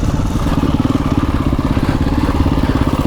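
A motorcycle being ridden gives off a steady, close engine drone with a fast pulsing throb and light mechanical clatter running throughout.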